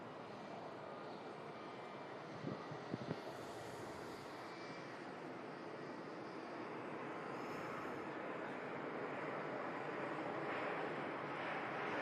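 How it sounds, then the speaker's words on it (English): Boeing Dreamliner airliner touching down, a distant, faint broad engine roar that swells slowly and lingers across the scene, with a couple of small nearby knocks early on. "Dreamliner just touching down there."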